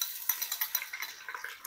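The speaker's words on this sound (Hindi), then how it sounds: "अब इसमें मैं डाल रहा हूँ लहसुन अदरक का पेस्ट।" Garlic ginger paste goes into onions frying in a pot, giving a soft, bright sizzle broken by quick scraping and stirring clicks of a utensil against the metal, fairly quiet with no voices.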